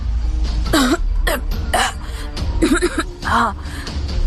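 A man coughs several times in quick, harsh bursts, with a strained throaty rasp between them.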